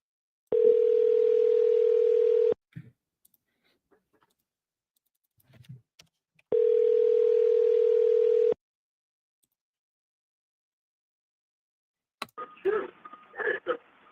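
Phone ringback tone heard while calling a real estate lead. Two long steady rings with a pause between them, a few faint clicks, and a burst of noise at the end.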